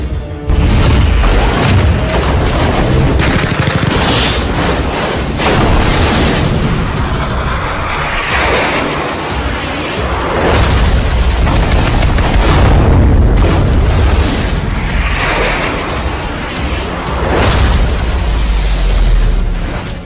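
Gunfire and explosions along the Line of Control near Kupwara come through as loud, dense, continuous booms and crashes that run the whole way through.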